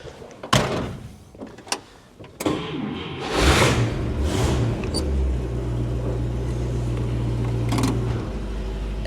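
An old Buick sits close by: a few door clunks and a slam, then the engine cranks and catches and settles into a steady low idle rumble that keeps running to the end.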